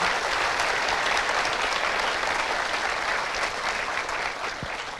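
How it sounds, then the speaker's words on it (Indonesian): Sustained audience applause for a guest's father at a televised talk show, a dense, even wash of many hands clapping that holds steady throughout and tapers slightly at the end. "Kita berikan aplaus orang tua tercinta"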